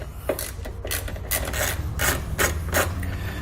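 Short ratcheting, rasping bursts come from a driver turning a T25 Torx bit to remove a screw that holds the fascia on a 2014 vehicle during a hidden trailer hitch install. About seven clicking spurts sound close and fairly loud.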